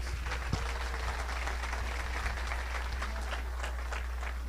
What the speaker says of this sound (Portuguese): a quem eu peço uma salva de palmas